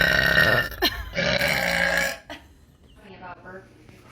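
A woman lets out two long, loud, deep burps close to the microphone, followed by quieter talking.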